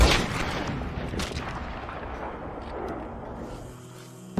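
A loud gunshot boom in the Red Dead Redemption 2 game opens the clip, followed by a long rolling echo and rumble that fades over several seconds, with a small click at the end.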